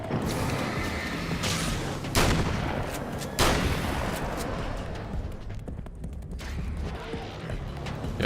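Gunfire in Alan Wake's American Nightmare: a dense, continuous rattle of shots with two heavier booming blasts standing out, loud and close over a constant noisy background.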